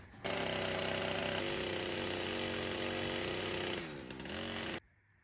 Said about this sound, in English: just ran my chainsaw through there